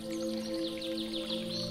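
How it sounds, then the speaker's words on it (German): Birds chirping beside blooming lavender fields: a few quick, thin repeated chirps, faint and somewhat distant, over a soft steady musical drone. "und das Zwitschern der Vögel."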